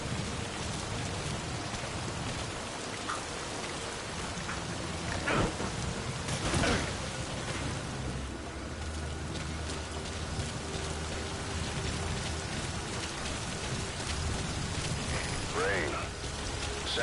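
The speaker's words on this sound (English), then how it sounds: "Rain. The sound of rainfall should help to mask your footsteps." Steady rainfall in the video game Metal Gear Solid V, a dense continuous hiss with a low rumble beneath, heard alone without talk.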